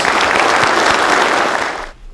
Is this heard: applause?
yes